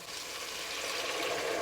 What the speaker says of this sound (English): Now I'm gonna add my water.